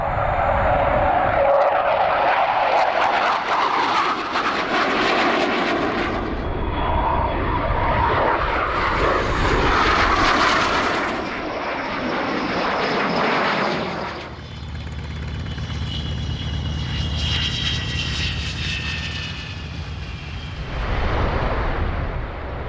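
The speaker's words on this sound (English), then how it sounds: "his efforts ensure the only airworthy example of the type keeps flying in UK skies" A de Havilland Sea Vixen jet, the only airworthy example of its type, roars past at a UK airshow in Coventry, with loud sustained engine noise that rises, swells and fades as it flies by.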